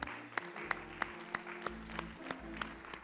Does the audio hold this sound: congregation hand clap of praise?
yes